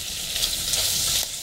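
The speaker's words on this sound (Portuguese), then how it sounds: "E vou deixar os dois agora terminar de fritar junto." Bacon and chopped calabresa sausage fry together in a hot pan, giving a steady, close, dense sizzle that holds evenly throughout, with no voices.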